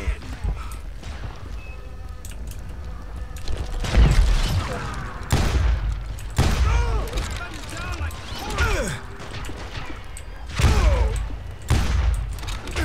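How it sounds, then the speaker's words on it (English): Gunfire in the video game Call of Juarez: Gunslinger during a two-versus-one shootout, with repeated sharp shots and bursts hitting at irregular intervals amid ricochet-like whines and game effects. "I'm getting just absolutely hammered down here. I don't know what is shooting me."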